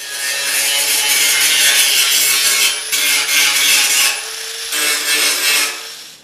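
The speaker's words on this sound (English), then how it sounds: "first I'm going to grind some welds using the grinder" Harbor Freight 4-inch angle grinder grinding down welds on metal, a loud continuous high-pitched whine and grinding rasp that breaks off briefly twice before resuming, with no talking.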